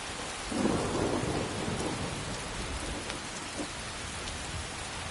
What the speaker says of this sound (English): It's pouring down raining outside.